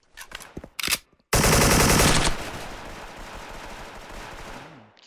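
AK rifle fire in the online shooter Special Force: a few quick separate shots, then a loud sustained automatic burst that thins into a trailing rattle and echo, with no voices over it.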